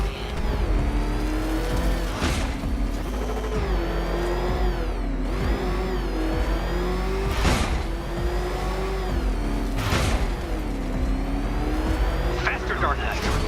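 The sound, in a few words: Batmobile driving and revving in video game Batman: Arkham Knight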